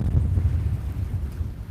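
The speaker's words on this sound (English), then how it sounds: "It's really windy." Strong wind buffets the microphone in a steady low rumble, loud and continuous, with no voices, on the shore of Lake Temiskaming.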